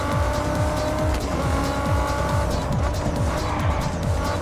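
A Ford races through traffic in Test Drive Unlimited Solar Crown, its engine revving in quick repeated climbs through the gears while tires squeal, loud and continuous.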